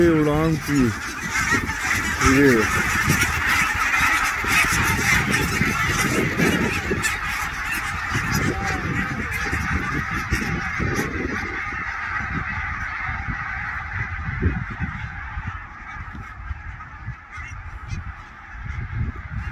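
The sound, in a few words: large flock of wild ducks coming in to land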